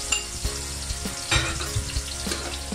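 Garlic frying in a pan for fried rice makes a soft, continuous sizzle, with light stirring clatters and a louder scrape partway through, heard without speech.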